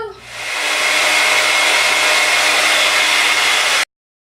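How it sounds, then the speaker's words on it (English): A hair dryer runs on its high, warm setting while blowing hair, a loud steady broadband whoosh that swells up within the first half second and holds constant before cutting off abruptly. "I am going to blow dry my hair on high and warm just because I want to dry faster"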